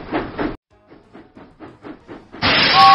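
A cartoon steam engine from a Thomas the Tank video game chuffs into Knapford Station, with about two heavy puffs, then a run of softer rhythmic chuffs, ending in a loud burst of steam and a whistle.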